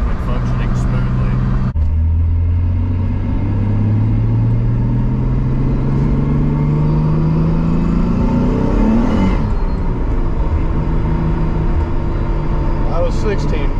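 A drift car's engine drones steadily while driving, with a low note rising gradually in pitch as it accelerates, loud and close throughout under continuous talk from the occupants.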